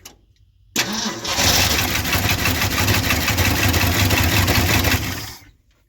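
An old 1-ton pickup truck that sat for 20 years, running on swapped batteries and new points, cranks briefly, fires, and roars loudly into a rough, steady run close by before cutting off abruptly.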